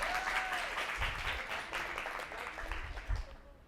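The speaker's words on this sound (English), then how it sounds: "Round of applause for our volunteer." An audience applauding a volunteer at a safer-sex talk, with steady clapping from a room full of people that thins out toward the end, plus a few thumps and faint voices underneath.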